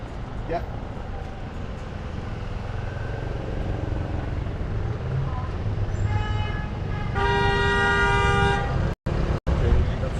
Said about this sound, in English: Okay, that's the sound of the city.